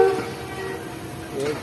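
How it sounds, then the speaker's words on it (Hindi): A train pulls out of Chak Pirana railway station on a single-line route, its horn sounding at the start and again near the end over a low rolling rumble, with faint chatter around it. "हमारी ट्रेन ने मूव करना शुरू कर दिया है चक पिराना रेलवे स्टेशन से"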